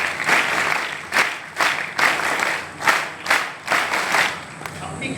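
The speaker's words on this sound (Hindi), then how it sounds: "इसलिए अपने लिए एक बार ताली जोरदार।" A large audience of cadets at an NCC camp claps loudly and fast, in several surging waves of applause with brief dips between them.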